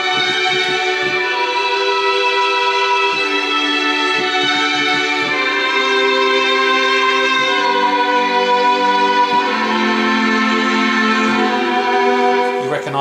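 Mellotron triple-violin string sound: sustained, slightly wavering string chords held and shifting steadily for several seconds with no breaks.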